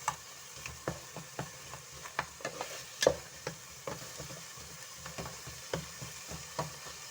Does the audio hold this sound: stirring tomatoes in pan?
yes